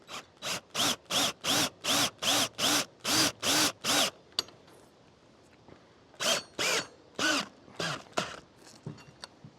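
A cordless power drill drives a supersized bolt into wood in a run of regular, evenly spaced loud bursts, then after a pause a few more strained bursts as the battery fades.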